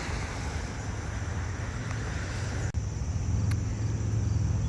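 Fast-moving storm floodwater rushes steadily over rocks covered by a couple of inches of water, a constant broad wash with wind buffeting the microphone and no voices.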